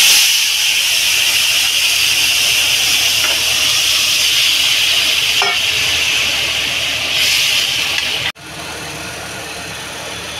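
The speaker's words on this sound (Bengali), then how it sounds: "আমি এটাতে দেবো রাঁধুনি ফোড়ন।" Radhuni seeds and dried red chillies for a Bengali tempering sizzle loudly in hot oil as a dense, steady hiss that stays close and constant, then drops away near the end, with no speech.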